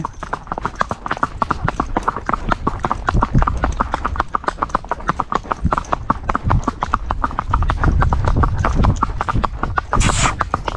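Horse hooves clip-clop in a brisk, even rhythm, close and loud, continuing throughout with a brief voice or whinny-like sound near the end.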